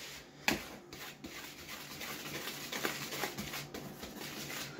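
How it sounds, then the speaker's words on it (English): A cornmeal mixture for buttery cornbread is whisked in a bowl, giving quiet, steady scraping and swishing strokes close by, with a sharper knock near the start. "We're going to whisk this together."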